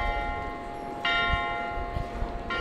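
Church bells ring in a German city centre with a bright, sustained tone, struck again partway through and near the end, heard alone with no talking.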